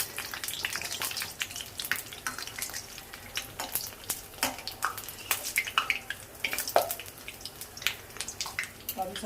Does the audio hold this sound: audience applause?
no